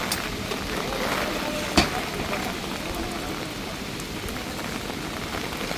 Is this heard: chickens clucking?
no